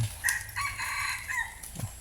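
A rooster crows once, loud and close, in a drawn-out, wavering call over steady background noise.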